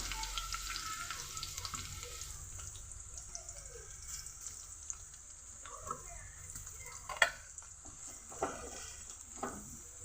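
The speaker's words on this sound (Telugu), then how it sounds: "ఉల్లిపాయ ముక్కలు పచ్చిమిరపకాయ ముక్కలు అయితే వేసేస్తున్నాను నేను ఇవి బాగా ఫ్రై చేసుకుందాం" Onion and green chilli pieces frying in hot oil, a faint, steady sizzle with scattered clinks and scraping of stirring, heard quietly and without talk.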